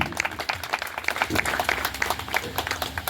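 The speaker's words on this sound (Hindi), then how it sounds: "तालियां बजाइए" A crowd claps steadily at an outdoor Independence Day gathering, dense rapid applause that holds throughout with voices mixed in underneath.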